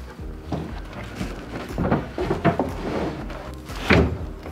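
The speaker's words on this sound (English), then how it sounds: "Now that this piece is glued, you're gonna put the fridge back in." A refrigerator pushed back into its glued wooden cabinet in a DIY camper van kitchen build, heard as a run of close, dull thumps and knocks with scraping bumps and no speech.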